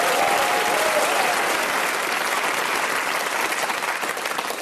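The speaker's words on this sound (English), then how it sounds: "And you applaud him." A studio audience at a comedy panel show breaks into sustained applause, loud and full at first and easing slightly toward the end.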